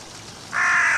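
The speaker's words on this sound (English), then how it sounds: "I see the crows." A single loud, harsh crow caw bursts in halfway through and holds to the end, from a horror video game set outdoors.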